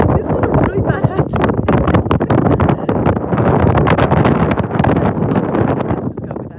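Strong gusting wind batters a microphone outdoors, a continuous loud rumbling roar with rapid buffeting bursts throughout, heard alone without talk.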